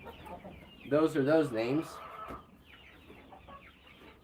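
Chocolate silver laced Orpington hens on a small farm, one close, loud warbling cluck-call lasting about a second, then quieter murmuring amid a person talking and windy outdoor background.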